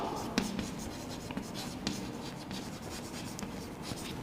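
Marker or chalk scratching across a classroom board while a physics lesson on electricity and resistors is worked through, with faint short strokes and taps over a steady room hiss.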